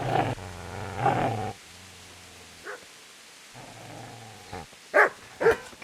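Dog growling and barking at a man in the medieval game Kingdom Come: Deliverance, with short gruff bursts near the start and sharper barks close by toward the end, separated by low murmuring quiet.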